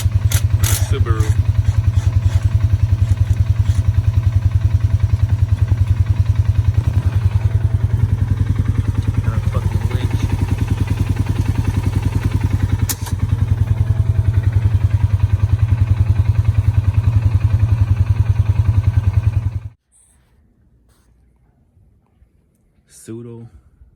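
A 2004 Subaru Forester 2.5X with a full Tsudo exhaust, including Tsudo headers, flex pipe, track pipe and catback, runs with a loud, steady low rumble for about twenty seconds before cutting off, followed by near silence with a brief faint sound.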